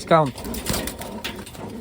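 A Wantai pigeon coos briefly at the start, followed by people talking close by over faint background noise.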